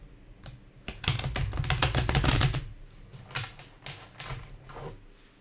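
Tarot cards are shuffled in quick riffling bursts, a dense clattering flutter that swells, then tapers into a few scattered softer riffles and taps, close and without talk.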